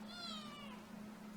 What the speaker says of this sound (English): Kitty's crying again.